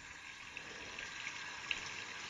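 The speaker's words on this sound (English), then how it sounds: "We've got water flowing." Water trickling steadily through a sensory garden water feature on a care farm, a soft continuous splashing flow heard close by, with a few small bright drips standing out.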